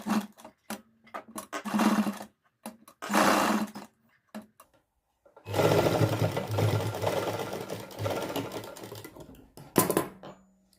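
A sewing machine stitches a small fabric piece for warm socks in loud, fast mechanical bursts, starting with short stop-start runs and then one long continuous run with a steady whirring rattle.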